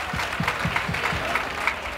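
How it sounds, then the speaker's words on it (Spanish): An audience at an outdoor festival with a live orchestra claps in a brief, moderately loud burst of uneven applause that stays fairly steady, with no talk over it. "Fuerte aplauso, que lo merece."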